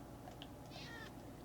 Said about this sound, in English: Look, a cat has spawned in.